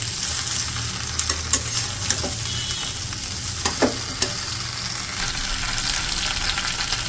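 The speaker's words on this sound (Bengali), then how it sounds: "2-3 মিনিটের মতো একটু ভাইজে নেব তেলের সাথে বড়িগুলো" Lentil dumplings (bori) fry in hot oil with a constant crackling sizzle, broken by a handful of sharp clicks and pops from the pan.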